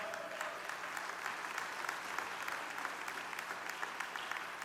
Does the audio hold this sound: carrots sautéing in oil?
no